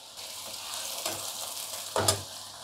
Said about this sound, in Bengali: তেলটার মধ্যে এবারে প্রথমে আমি একটু পেঁয়াজ কুচো দিয়ে দেবো পেঁয়াজের সঙ্গে আদা কুচোটাও দিয়ে দিলাম